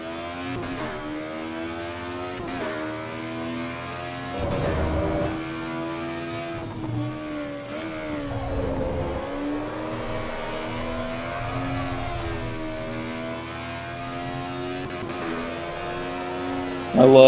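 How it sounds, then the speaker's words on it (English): In the racing game Assetto Corsa EVO, race car engines hum and rev steadily, with pitch rising and falling as gears shift, including an AE86 chased by a Mark IV Supra; the sound continues without pause. "A86 being chased by Supra Mark IV behind us"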